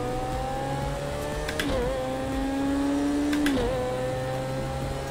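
In Project Cars 2, a race car's engine drones loudly and continuously, its pitch shifting sharply at two gear changes as the car drives on, heard alone without voices.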